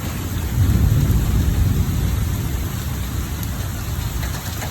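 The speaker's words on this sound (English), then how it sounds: "And there is the heavy rain and thunder and lightning." A heavy Oklahoma thunderstorm: dense, steady rain pours down nearby while low thunder rumbles through, a constant loud wash of rain with no voices.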